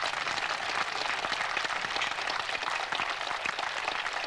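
A large outdoor crowd at the 1986 Burnhope miners' gala applauds in a dense, steady wash of clapping that sounds close and fairly loud, with no voices over it.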